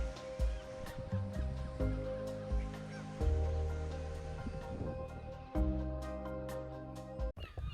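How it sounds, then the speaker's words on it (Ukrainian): Black-and-white seabirds on the Isle of May call in a loud chorus of harsh, honking cries, repeated in bursts, with distant surf beneath. "А там повно птахів"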